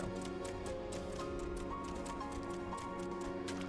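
A tiny pony in the game Final Fantasy XI trots with soft, steady hoof clip-clops over a constant layer of game music, quiet and continuous.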